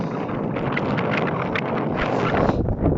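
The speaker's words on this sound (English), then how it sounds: "Bit windy, sorry about that" Strong wind on a mountain top buffets the microphone in loud, rumbling gusts, continuous and close, with no voices.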